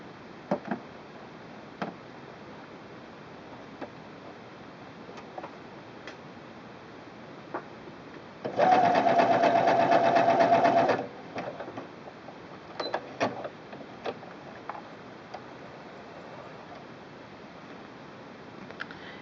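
A sewing machine runs in a steady fast burst for about two seconds, stitching the bartack at the bottom of an extra large buttonhole, amid quiet ticks and clicks before and after.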